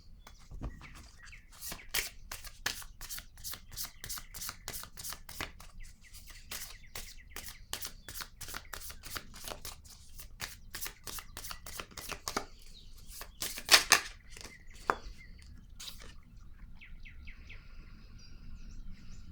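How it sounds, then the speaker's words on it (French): Tarot cards are shuffled and laid down, a long rapid run of sharp, crisp papery clicks that pauses and then returns with a few louder slaps near the end. No one talks. "Je vais déposer une autre carte ici pour comprendre."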